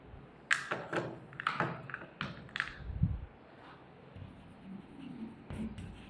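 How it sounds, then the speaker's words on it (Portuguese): Writing on a board during a church teaching session, close irregular taps and short scratchy strokes of a marker or chalk with small pauses, fairly quiet against a faint room background and no talking. "Vou até escrever aqui."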